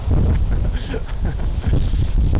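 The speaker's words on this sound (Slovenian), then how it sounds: "Čez dan veter ni ponehal" Strong wind gusts in a Slovenian village after a storm buffet the microphone with a loud, continuous roar, swelling and easing in waves.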